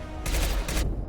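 Rapid volley of gunfire from Mass Effect 2 combat, two dense loud bursts close together, alone with no speech.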